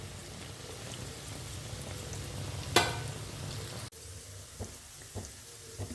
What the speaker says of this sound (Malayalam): നമുക്കിത് മറിച്ചിട്ടിട്ട് അടുത്ത വശം കൂടെ അതുപോലെ ഫ്രൈ ചെയ്തെടുക്കാം